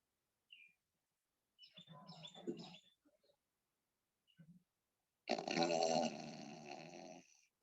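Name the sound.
ujjayi breathing, snore-like throat sound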